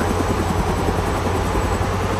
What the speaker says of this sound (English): There's helicopter over there, guys.